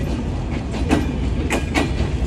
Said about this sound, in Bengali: অনেক বড় ট্রেন, অনেক বড়।